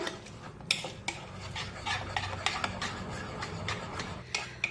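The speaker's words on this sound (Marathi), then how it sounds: "आता पुन्हा एकदा सर्व व्यवस्थित मिक्स करून घेऊया" A spoon stirs soaked semolina appe batter with milk and jaggery in a bowl, giving repeated close scraping and light clinking taps in an irregular rhythm, with no talking.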